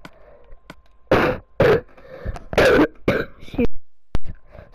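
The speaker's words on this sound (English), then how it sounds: "I get coughing in this episode" A man coughs and clears his throat in several harsh, close bursts with gravelly rasps between them, loud and without speech, ending with a sharp knock.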